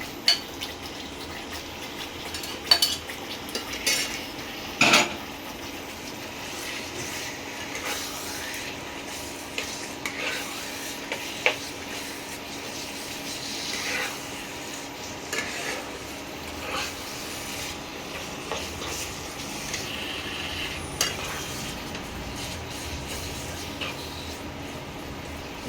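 Mutton mince and liver being stirred with spices in a pan, a steady low scraping and rubbing of a spoon with occasional sharper knocks against the pan.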